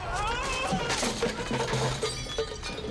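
A cat meows a couple of times amid a busy, noisy background with some clattering, the calls fairly close but partly masked.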